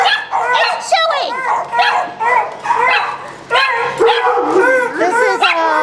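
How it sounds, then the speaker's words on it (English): A rescue dog lets out a bugle bark, a run of loud, close, rising and falling yelping howls in repeated bursts, with brief pauses between calls. "Oh, that's a bugle bark."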